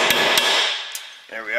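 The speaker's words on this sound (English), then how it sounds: "I don't know if I can get it with this little hammer" A small hand hammer strikes the thick metal lip on a Chevrolet Sonic front hub: two sharp, ringing metallic blows close to the mic, then a fainter tap, with a brief voiced sound at the end.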